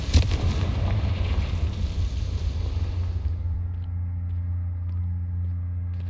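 A fiery Confringo blast spell explodes in the Hogwarts Legacy video game. A sharp, loud boom is followed by a rumbling roar that fades into a low sustained hum, with no talking.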